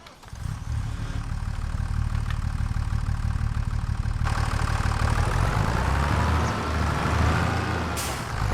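A John Deere tractor engine in Farming Simulator 25 starts up and settles into a steady, fairly loud idle drone, with a faint hiss and shifting rumble near the end.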